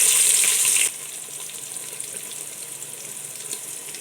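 Sliced onions fry in oil and ghee with whole garam masala. A loud hiss bursts out for about a second, then drops to a steady, softer close sizzle that carries on, with no talking.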